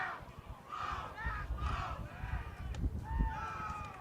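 A crowd at a high school baseball game cheers in a steady, broad roar, with high whoops and yells rising above the din throughout.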